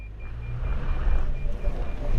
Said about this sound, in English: So now I'm going to go into mud and sand. We should see more wheel spin here.